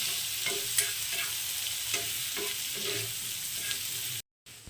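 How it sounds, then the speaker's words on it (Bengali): Chopped onion frying in a little oil on a tawa, a steady broadband sizzle with several distinct scrapes of a spatula stirring, close and loud, no talking, ending in a brief cut to silence. "পেঁয়াজটাকে একটু লাল লাল করে ভেজে নেবো"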